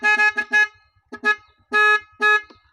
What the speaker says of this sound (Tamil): ஹார்ன் பார்த்தீங்களா நண்பர்களே